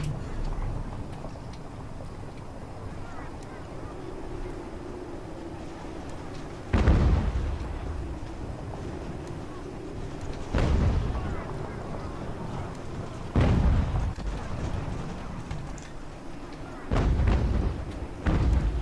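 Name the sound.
artillery guns firing in Ultimate General: American Revolution video game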